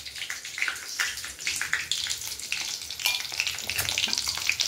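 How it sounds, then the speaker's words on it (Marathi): Cumin, green chili and chili powder sizzle vigorously in hot oil in a kadhai, a dense crackling fry with frequent stirring scrapes running throughout, loud and close. "आपण कढईमध्ये तेल टाकून घेतलेलं आहे, जिरं आणि हिरवी मिरची टाकून घ्यायची"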